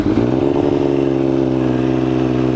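Triumph Daytona 955i motorcycle engine running poorly, revving briefly then settling into a loud, steady, slightly uneven idle close by, with no talk.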